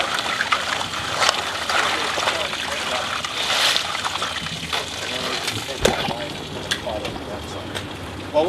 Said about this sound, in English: we're going to drop these in the water now, just to show you how they float